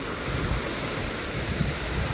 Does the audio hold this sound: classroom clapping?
no